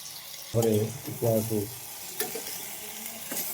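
Mushroom curry sizzles in a pan with turmeric, chilli, cumin, coriander and garam masala, a steady frying hiss with stirring under a voice that talks in two short bursts.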